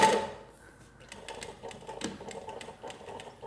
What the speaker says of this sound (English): At the beginning, the machine's going to go forward, back and forward, and it'll go back those 3 stitches that we have it set at